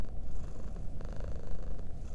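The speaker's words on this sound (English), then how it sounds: "You kneel down and gently stroke their tummy as they continue to purr." A cat purrs close and steady, a low rhythmic rumble pulsing with each breath for a couple of seconds, with no voices.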